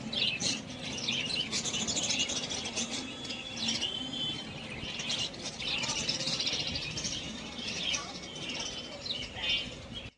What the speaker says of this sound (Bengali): আমার সব পাখিগুলো এই খাঁচার মধ্যে ভরে দিয়েছে।